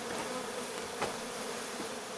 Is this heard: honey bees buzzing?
yes